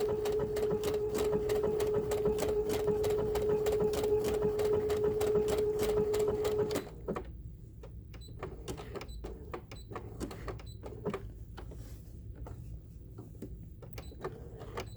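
A sewing machine stitches a quilted blossom wall hanging, running in a steady rapid whir for about seven seconds before stopping, then slow single stitches tap out one at a time.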